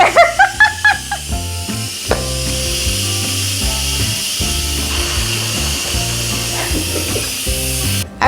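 Steady, even hiss of an Instant Pot releasing pressure after cooking chicken soup, running continuously beneath louder background music for the whole stretch.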